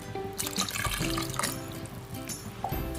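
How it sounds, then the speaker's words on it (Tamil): Coconut milk pours steadily into a pressure cooker pot of chicken kanji with a gurgling, splashing sound, a few light clinks alongside, no voices. "இன்னும் கொஞ்சம் பால் ஊற்றிக்கலாம், தேங்காய் பால்."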